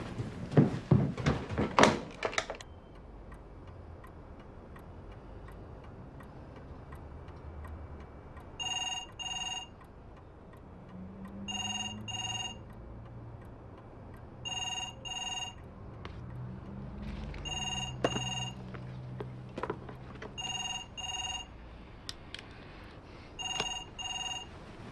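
A telephone rings in a home, repeated double-burst electronic trills spaced evenly apart, moderately loud, after an opening flurry of clattering knocks and over a low room rumble.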